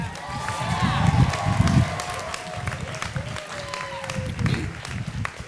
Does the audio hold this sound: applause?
yes